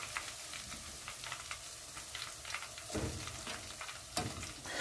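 Oyster mushrooms in a soda batter fry in a pan with a soft, continuous crackling sizzle and faint scattered pops, fairly quiet and without voices.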